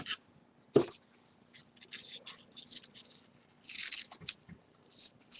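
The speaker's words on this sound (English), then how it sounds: "these are not good scissors to cut ribbon with" Scissors snipping through ribbon, a series of short, dry crisp cuts and rustles with one sharp louder snip early on, close and quiet in a still room.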